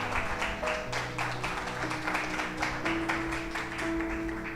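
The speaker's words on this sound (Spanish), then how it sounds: "Ríndale un aplauso de alabanza," A church congregation claps steadily in rhythmic applause of praise, a dense continuous patter mixed with background music, moderately loud and without speech.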